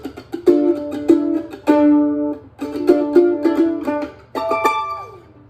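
Plucked mandolin chords voiced in fourths ring out in four separate strums, each sustaining with bright, open, stacked overtones before fading.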